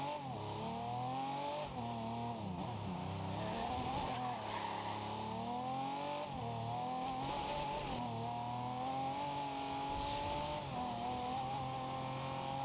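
A car racing in the video game Forza Horizon 2: a loud, continuous engine note rising and falling through revs, with tire squeal and skidding layered in and no talking.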